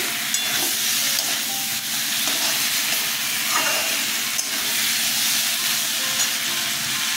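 Drumstick curry with poppy seed and mustard sautés in a pan, a dense, continuous sizzle with frequent stirring scrapes and light clicks of the spoon throughout, close and fairly loud.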